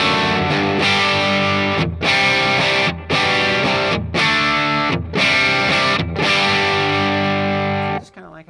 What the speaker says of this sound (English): I like the sound of reverb with the distortion.